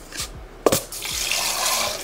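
Cold tap water runs into a bowl as glutinous rice is washed by hand, a steady splashing rush with a sharp clink and some swishing, close and fairly loud.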